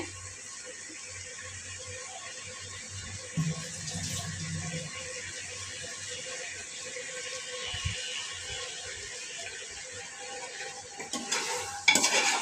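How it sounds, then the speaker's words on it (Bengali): Spiced onion masala is stirred and sautéed in a pan, with a soft, low sizzle under scraping and stirring movements, a few louder clatters near the end and no speech. "আমি একটু কষাবো"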